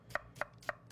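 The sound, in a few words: knife slicing onions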